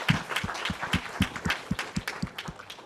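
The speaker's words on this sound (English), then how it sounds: "Big round of applause" Steady applause from a seated audience closing a technical tutorial session, dense clapping with a regular pulse of sharper individual claps, fairly close and continuous throughout.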